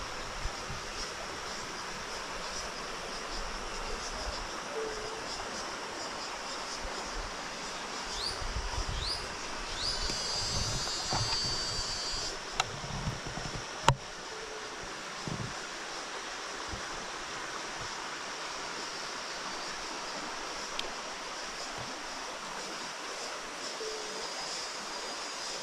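Water flows steadily beside a rural walking trail on an early-morning hike, a continuous, moderately close rushing wash with faint insect buzz and no voices.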